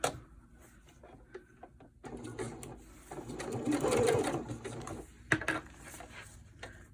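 A domestic sewing machine stitches a narrow French seam on cloth diaper fabric, its motor whirring in short starts then running steadily, close and fairly loud, with a few clicks and handling noises.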